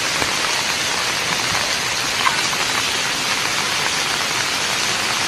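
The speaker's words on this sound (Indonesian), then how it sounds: "Air sangat begitu deras" Heavy water rushes steadily during a landslide in a housing estate in Pasar Rebo, East Jakarta, a dense, continuous broadband roar like torrential rain with no pauses and no voices.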